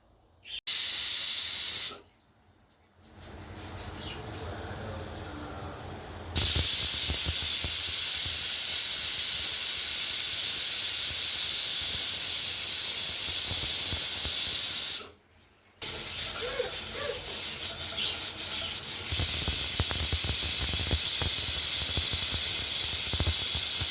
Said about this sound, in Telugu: కుక్కర్ మూత పెట్టేసుకొని మినిమం ఎనిమిది తొమ్మిది విజిల్స్ రాణించుకోవాలి